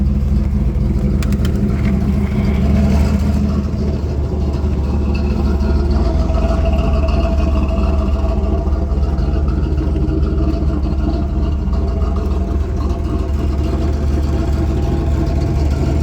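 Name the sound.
1981 Trans Am engine warming up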